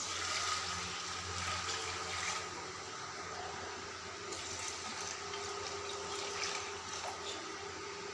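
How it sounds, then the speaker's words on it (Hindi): Water poured from a container into a pot of roasted white chickpeas to make shorba, a steady rushing, splashing flow that continues evenly for several seconds with no talking. "अब हम इसमें पानी ऐड करके शोरबा कर लेते हैं।"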